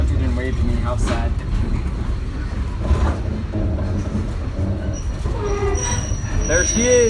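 A Mikado steam locomotive's train rumbles along with metal wheels squealing and screeching as it slows to a stop, a steady heavy rolling noise close by.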